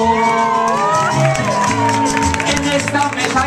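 At a birthday party, an audience claps and cheers over live singing and music, a lively crowd sound mixed with voices throughout.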